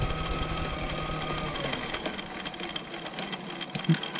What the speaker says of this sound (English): if we want to do zigzag, we just turn this knob and we can nail some zigzag